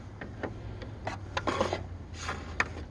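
Serpentine belt slid onto the pulleys of a Dodge Nitro 4.0L engine, faint scattered rubbing and scraping strokes with a few sharper clicks, close and quiet, no talk.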